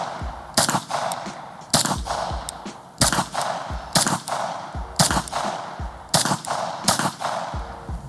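Pistol gunshots fired at a steady pace, about eight loud, sharp reports roughly a second apart, each ringing out briefly before the next.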